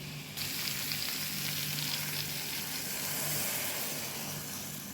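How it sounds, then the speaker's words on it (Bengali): Sizzling tomato masala for prawn curry, a loud steady frying hiss that jumps in right after the start and holds evenly throughout, with no voices. "কষানো হয়ে গেছে, এখন আমি জল দিয়ে দিচ্ছি"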